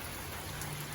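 Steady rain falls outside a goat and chicken house, a dense even hiss of drops on surfaces with no voices.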